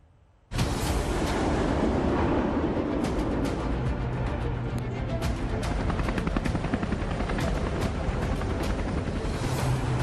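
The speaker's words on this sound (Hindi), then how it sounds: "सेना के लड़ाकू विमानों और हेलीकॉप्टर्स का शानदार फ्लाई पास्ट" Military helicopters and fighter jets roar overhead in a Republic Day flypast, a sudden loud, sustained rumbling roar that holds steady and close.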